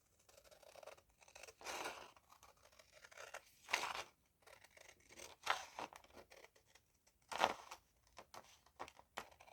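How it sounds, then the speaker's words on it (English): Scissors cutting through sturdy journal card, a series of separate crisp snips and crunches spaced a second or two apart, close and alone with quiet pauses between. "So maybe we'll just cut it with scissors"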